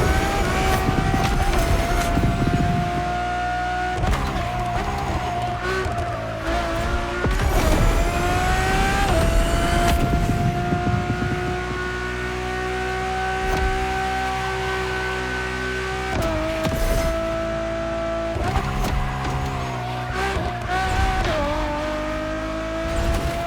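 A Ferrari supercar engine in The Crew Motorfest screams loud and close, climbing through the revs with abrupt gear-shift drops and repeated surges, and a brief tyre squeal underneath, with no talking.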